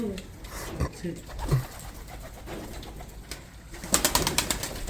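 Racing pigeons cooing inside a loft, several soft overlapping coos with flutters and rustling, close by, while a person talks over the birds.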